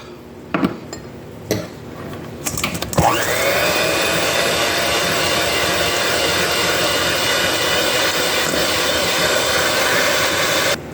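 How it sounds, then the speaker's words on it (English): A mixer whips egg whites, meringue powder and granulated sugar for homemade nougat: a few clicks and knocks, then a steady, loud whirring drone that runs without a break to the end. "We're going to take our egg whites, our meringue powder, and our granulated sugar, and we're going to mix this up."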